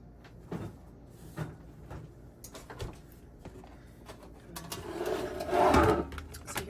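A kitchen refrigerator door opens and shuts as sour cream is put away, with soft clunks and rustling handling noises, the door closing with a fuller thud near the end.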